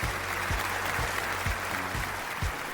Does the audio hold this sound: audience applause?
yes